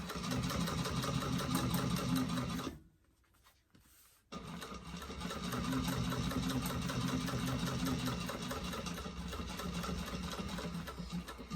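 A sewing machine stitches a pocket onto a backpack in a steady close rattle, pausing briefly for a back stitch before running on continuously.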